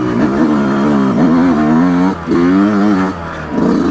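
A Yamaha YZ125X two-stroke dirt bike engine revving hard in second gear without the clutch: a loud, close, warbling wail that rises and falls, cut by a short drop partway through.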